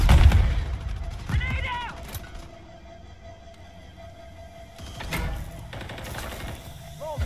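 Scattered gunfire from Call of Duty MWIII on the Rust map: a few loud shots open and return later, with quieter distant pops and mechanical clicks between, and voices speaking over parts of it.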